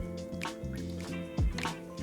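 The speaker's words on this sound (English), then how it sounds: "We mix the pulp with water, like this." Wood pulp is stirred into water, giving wet dripping, squishing and sloshing sounds in close, irregular bursts with a few louder splashes.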